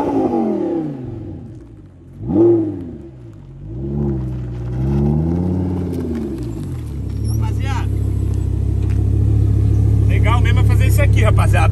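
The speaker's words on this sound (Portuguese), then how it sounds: "Esse barulho é muito bonito, né? Do Launch Control." An Audi R8 engine revs in launch control, first with several rising and falling blips, then holding a loud, steady, high-rpm drone, while people talk over it.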